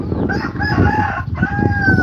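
A rooster crows twice on a farm, the calls close and loud over a steady bed of clucking chickens and barnyard noise, with no talking.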